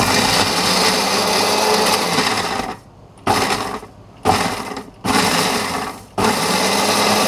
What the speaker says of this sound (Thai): แม่บ้านยุคใหม่อย่างเราก็ใช้เครื่องบดค่ะ